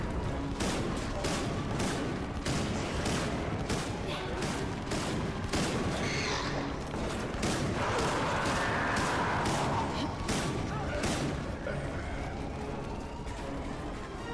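Shotgun blasts and other gunfire from Resident Evil: Operation Raccoon City, a dense run of sharp bangs repeating steadily throughout over constant game noise.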